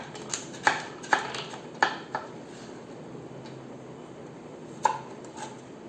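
A knife slices through a croquette potato on a plate for decoration, making a handful of crisp clicks and taps against the dish, spaced irregularly over a quiet background.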